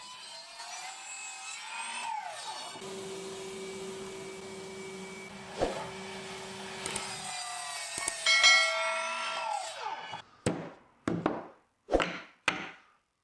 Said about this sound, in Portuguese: E então eu corto 2 comprimentos na serra de esquadria.